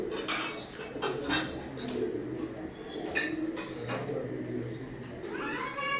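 Teddy pigeons of an imported Oman bloodline cooing in a loft, soft repeated low coos with some background bird calls and faint clatter.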